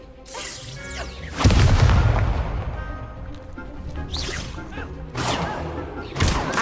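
Spell-casting effects from the Hogwarts Legacy video game, with a sharp whooshing crack of an Expelliarmus disarming spell landing as a loud booming impact, followed by further swishes and hits in a busy game mix.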